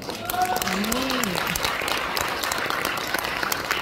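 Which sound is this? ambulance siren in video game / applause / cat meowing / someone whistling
applause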